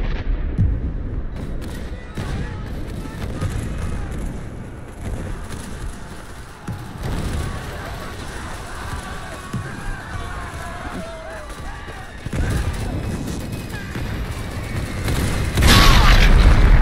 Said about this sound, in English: Oh, not another artillery.